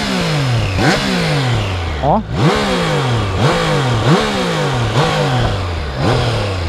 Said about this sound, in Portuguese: bora abrir aqui o capacete para vocês ouvir o ronco da nave